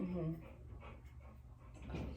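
A pet dog pants and breathes softly just outside a door, waiting to be let in; the faint, steady breathing sits under people talking.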